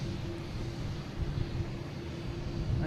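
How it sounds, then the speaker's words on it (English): Aer Lingus airliner bound for Dublin at Boston Logan airport, a steady low engine rumble with a faint whine holding evenly throughout, moderately distant and continuous with no talk. "we have Aer Lingus here heading to Dublin"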